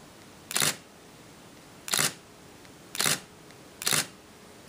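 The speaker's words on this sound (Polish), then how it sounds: "zdjęcie będzie wywoływane za pomocą zdalnego pilota" Single-lens reflex camera fired by an infrared remote control: four crisp shutter clicks spaced about a second apart, close and loud over a quiet background hiss.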